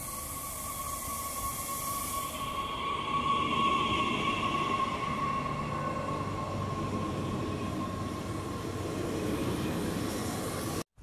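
A French TER regional train at Libourne station in Nouvelle-Aquitaine gives a steady close rumble with a sustained tonal whine. A brief hiss fades early on, and the sound cuts off abruptly at the end.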